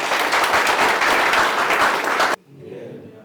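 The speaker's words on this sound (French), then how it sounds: "Est-ce qu'on peut s'applaudir?" A gathered crowd at the opening of a training session in Inkisi breaks into loud, full applause for about two seconds. It stops abruptly, leaving a quiet room murmur.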